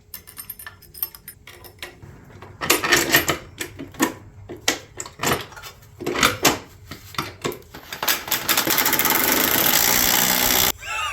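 A power tool, likely an impact driver, tightens a square-head bolt through a round washer while mounting a converted Briggs engine, with a run of sharp rattling bursts that give way to a sustained loud whir near the end.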